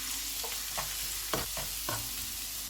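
Chopped garlic and ginger fry in hot oil in a pan, giving a steady, close sizzling hiss. A few soft scrapes and taps of stirring sound over it.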